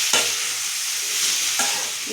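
Ivy gourd sautés in hot oil in a pan for a Tamil poriyal, giving a steady, close sizzle broken by a couple of sharp stirring scrapes.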